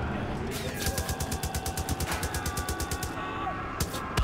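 Rapid, evenly spaced machine-gun bursts from a vehicle-mounted gunner in Far Cry 5 rattle loudly and continuously over a rumbling engine, with a short pause near the end.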